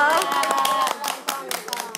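Grandmothers clap for the chef after a meal of cheese-waterfall steak and pasta, with a short burst of close, uneven hand claps that starts amid chatter and laughter and tapers off.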